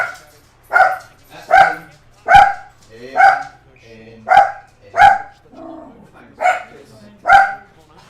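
A dog barks repeatedly and loudly close by, about nine evenly spaced sharp barks in a steady rhythm, heard alone without talk.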